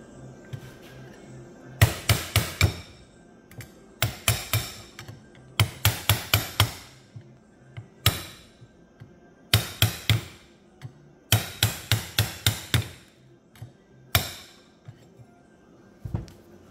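Sharp metal hammer blows strike an RCV axle stub shaft to drive it out, landing close and loud in quick bursts of three to six hits separated by short pauses, without talk.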